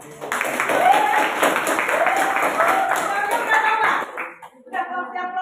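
Students in a classroom clap together in a sustained burst of applause for about four seconds, loud and close, with voices mixed in, then the clapping breaks off into brief talk.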